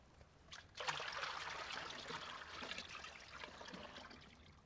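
Cold mountain snowmelt water trickles and splashes into a canteen, a steady close liquid dribble that swells after a brief start and runs on evenly to the end, with no talking.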